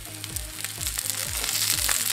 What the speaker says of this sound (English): I'm just going to put a little bit of oil on this side of the pan and I'm going to toss on some asparagus